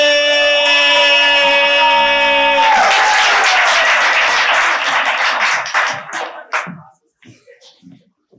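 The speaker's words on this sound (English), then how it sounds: "Keep hands clapping." At a youth poetry slam, a crowd breaks into loud clapping and cheering as music cuts out, with dense applause that swells, then tapers into a few scattered claps and voices before falling silent.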